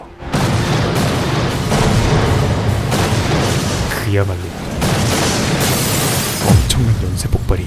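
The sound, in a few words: chain explosions engulfing a building, TV drama effect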